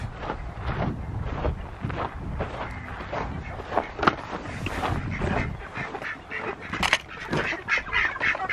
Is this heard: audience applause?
no